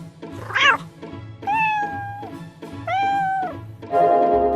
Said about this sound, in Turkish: burada bir tane beyaz kedi var